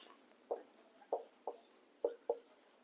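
Five short scratchy strokes of writing on a board during an English grammar lesson, close and fairly quiet, spaced irregularly over a faint hiss with no talk.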